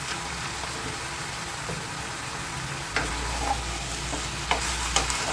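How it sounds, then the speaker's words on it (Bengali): Chicken curry with vegetables is stirred in a hot pan, giving a steady close sizzle broken by a few sharp spoon scrapes and clatters toward the end, with no talking. "এখন এটাকে একটু ভালো করে নেড়ে চেড়ে দিচ্ছি"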